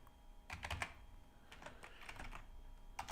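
Typing on a laptop keyboard, with quick bursts of key clicks and short pauses between them, close and fairly quiet with no talking.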